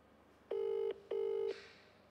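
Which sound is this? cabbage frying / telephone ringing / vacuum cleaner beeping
telephone ringing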